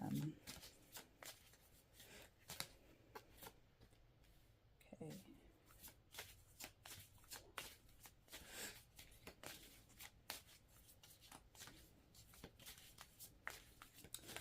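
A tarot deck being shuffled, giving repeated quick riffling and flicking bursts in an irregular rhythm, close and fairly soft, with a person speaking quietly at times.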